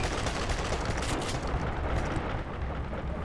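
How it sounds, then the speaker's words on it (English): Enemy gunfire rattles on without a break in Duke Nukem Forever, a dense, noisy barrage that holds steady for several seconds with no talk over it. "Why are they shooting?"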